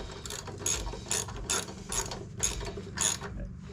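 A ratchet clicks in short repeated bursts, about seven strokes at a steady rhythm, while tightening a lawn mower blade bolt up close with no talking.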